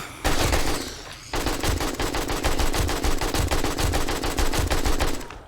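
A long, rapid stream of AK rifle fire in the survival game 7 Days to Die, loud and continuous after a brief opening burst and a short pause.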